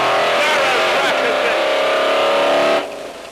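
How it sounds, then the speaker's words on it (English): A Rothmans Bronco race car's engine holds a loud, sustained high-revving drone close by, then the note drops abruptly near the end as the throttle comes off. "making sure you don't over-rev the engine"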